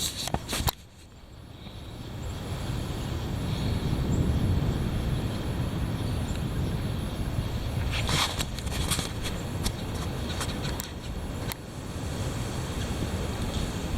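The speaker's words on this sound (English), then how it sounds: "The heavy wind." Heavy wind roars as a steady, loud broadband rush with deep low rumble, holding for the whole stretch with a brief dip near the start and a few gustier buffets in the middle.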